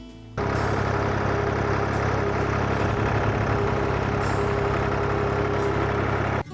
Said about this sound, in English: The tractor runs great, the engine is super solid